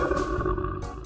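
A lion roars in one sustained, rumbling, deep and fairly loud call of about a second, with no other sound.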